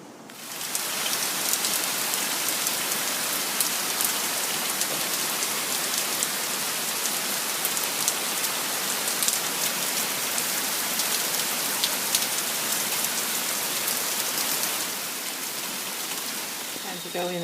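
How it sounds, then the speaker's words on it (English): Heavy rain pours steadily on a North Carolina day, a dense, continuous hiss of drops drumming on surfaces that holds nearly constant for the whole stretch before easing slightly near the end. "Wow, it's really raining hard."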